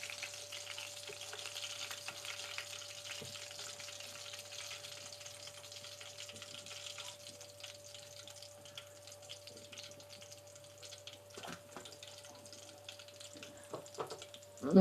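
Fish pieces deep frying in hot oil, a steady soft sizzle and crackle throughout with occasional louder pops and clinks of a utensil turning the pieces near the end, no talking.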